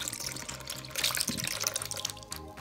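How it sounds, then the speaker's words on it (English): Plain water is poured from a glue bottle into a glue mixture while making slime, a quiet, steady splashing trickle heard close by with no talk. "and you're gonna pour that into the glue mixture."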